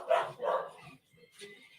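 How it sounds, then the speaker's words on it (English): A house dog barks in another room through an open door: two quick loud barks, then a softer yip, mixed with nearby talking. "Dog's going mad."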